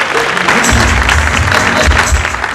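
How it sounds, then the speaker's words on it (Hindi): An audience at a gathering honoring three Kargil war veterans claps for their arrival, a dense burst of applause, loud and close, lasting a couple of seconds. "आपने इनकी आमद पे तालियां बजाई।"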